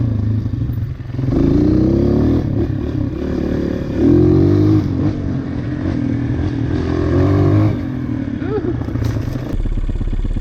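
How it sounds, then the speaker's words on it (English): Honda CRF230 dirt bike engine idling high after a leaner fuel screw adjustment, a loud close putter whose pitch rises and wavers in uneven surges, with some clatter near the end. "It's idling higher, which is pretty typical from going leaner on the fuel screw."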